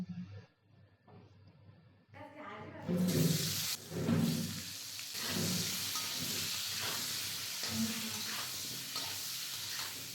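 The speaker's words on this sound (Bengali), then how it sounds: "ওই তেলের মধ্যে আমি কেটে রাখা আলুগুলো এক এক করে দিয়ে দিলাম।" Cut potatoes dropped piece by piece into hot oil while cooking chicken biryani, a loud broadband sizzle and hiss surging from quiet kitchen sounds and holding steady, with faint utensil clatter underneath.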